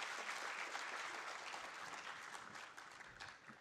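An audience at an inaugural event at Gujarat University claps in a brief, even, fairly faint round of applause with no talking.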